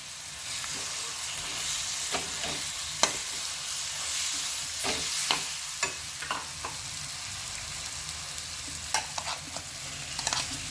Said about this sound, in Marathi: लाल मिरच्याचं वाटण घालून घेऊया ही मिनिट आपण सहा ते सात मिनिट छान परतून घेणार आहोत